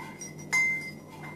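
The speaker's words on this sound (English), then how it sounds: "Let's give it another stir" A single bright clink of a spoon against a glass while a green hybrid herbs drink is stirred, close and brief, over a quiet room background.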